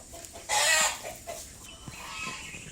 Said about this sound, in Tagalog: Ito ang mga native na chicken guys.